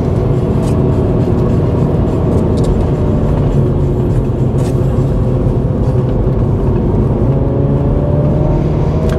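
A 2021 Mini John Cooper Works accelerating hard from inside the cabin, a loud, steady engine drone rising gradually in pitch over about nine seconds with no talking.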